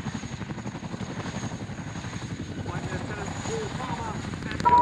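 A Chinook helicopter landing at the Waddington airshow, its heavy rhythmic rotor thump steady and loud throughout, with a voice talking over it and the noise swelling near the end.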